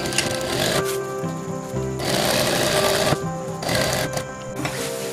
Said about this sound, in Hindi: रखकर हम सीधा सिलाई करेंगे